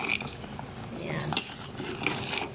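Boiling crabs being stirred in a pot, with scraping and clinking of a utensil against the metal over a low bubbling background and a few sharp knocks.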